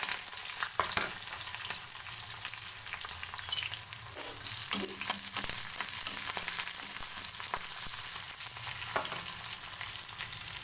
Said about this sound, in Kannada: ಚಿತ್ರಾನ್ನಕ್ಕೆ ಯಾವ ಥರ ಒಗ್ಗರಣೆ ಹಾಕ್ತೀವಿ ನಾವು, ಅದೇ ರೀತಿ ಒಗ್ಗರಣೆ ಹಾಕೋದು